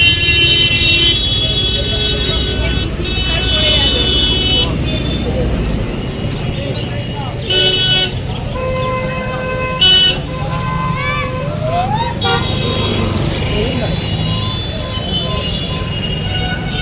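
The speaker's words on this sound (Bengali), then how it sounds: "চলে এলাম বাস স্ট্যান্ডে, বারাসাত বাস স্ট্যান্ড।" Busy traffic at Barasat bus stand: a steady rumble of buses and cars with repeated horn toots and honks cutting through, while people talk nearby.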